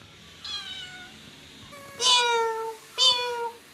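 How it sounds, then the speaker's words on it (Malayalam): Cats meow loudly three times, the calls drawn out and whiny, the last two louder and overlapping as if from two animals nearby. "കണ്ട 2 പൂച്ചകൾ ഞാനിവിടെ വന്നപ്പോൾ ബഹളം വെച്ചുകൊണ്ടിരിക്കുകയാണ്."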